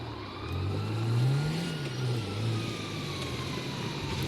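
Police car in GTA 5 bearing down fast, its engine revving loudly with a rising and falling tone, a faint siren-like wail mixed in, no talk over it.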